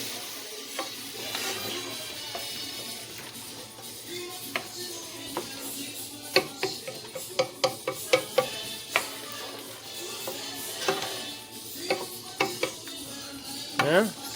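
Shrimp fried rice with mixed vegetables stirred in a pot: a soft sizzle with repeated sharp clinks and scrapes of a utensil against the metal, irregular and close.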